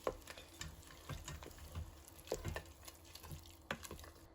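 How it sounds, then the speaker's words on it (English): Soft scraping and clinking of a spoon stirring food inside an opened Instant Pot, with gentle wet squelches and light taps at irregular intervals, close but quiet. "I just opened the Instant Pot. I'm gonna give this a stir."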